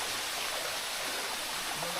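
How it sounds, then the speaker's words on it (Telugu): A waterfall on the Netravati Peak trek roars as a dense, constant rush of falling water, loud and unbroken throughout, with a voice faintly present beneath it. "సో ఇక్కడ చూడవచ్చు మీరు, ఇది వాటర్ ఫాల్స్ అనమాట."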